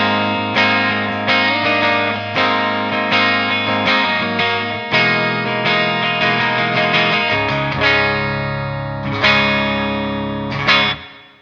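An Infinia Ceres electric guitar played through its neck pickup in full humbucker mode rings out in strummed chords and picked notes, with clear sustained tones, effects coloring and a rhythmic series of attacks that fade at the end.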